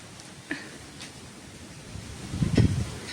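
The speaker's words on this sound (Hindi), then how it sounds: "मैं आपको दिखाती हूँ कितनी तेज तेज हवाएं" Strong gusting wind from a stormy squall roars against the microphone, building into a louder rush near the end, with a few faint knocks and no speech.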